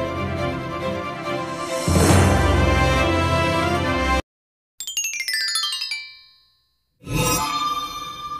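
A bell-ringing sound effect plays as bright, clanging chimes and ringing tones, followed by a descending run of dings, broken by short stretches of silence and ending in another burst of ringing.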